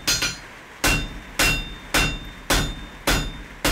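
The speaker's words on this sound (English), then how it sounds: "so now we're going to go ahead and forge this to octagon" Hammer blows forging a bar of wrought iron to an octagon on an anvil, six loud ringing strikes in a steady rhythm about every half second, close and clear with no talk.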